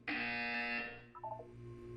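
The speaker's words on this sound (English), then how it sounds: "You will hear a buzzer." In the Portal 2 video game, a loud, harsh electronic buzzer sounds for about a second, then breaks into a few short stepped tones before fading into a low hum.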